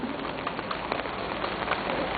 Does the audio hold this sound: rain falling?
yes